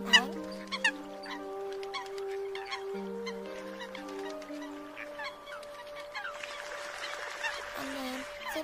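Coot calls from a bird lure recording sound as a string of repeated nasal, honking notes, some short and some drawn out, over a quiet background that turns hissy near the end.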